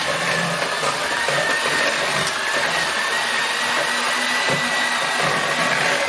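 Electric hand mixer beating tart dough in a home kitchen, a steady close whirring motor hum that runs without a break for the whole stretch, with no talking.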